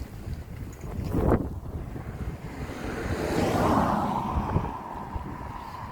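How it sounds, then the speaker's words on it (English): Gusty wind buffets the microphone outdoors, a low rushing roar that rises and falls in waves, with a quieter swell midway and no voices. "It's a little bit windy"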